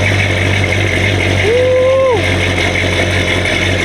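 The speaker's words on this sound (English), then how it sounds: "Wait for that idle to drop back down." A truck engine idles nearby with a steady low drone as a whistling tone briefly rises and then drops back down, the idle settling to an even rumble.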